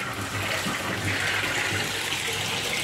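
Water poured from a container into a cooking pot holding sautéed aromatics, green chili and fish for sinigang, a steady close splashing gush running the whole time with no talking.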